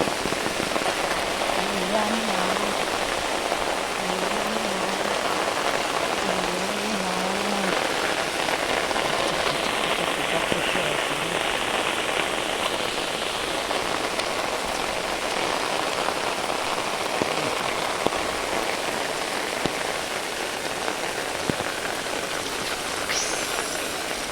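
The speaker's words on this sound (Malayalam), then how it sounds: "വീട്ടിലേക്ക് പോയപ്പോൾ നല്ല മഴ പെയ്തായിരുന്നു കേട്ടോ" Steady, dense rain pours down without pause, a thick continuous hiss of drops hitting surfaces, with a few faint tonal warbles early on.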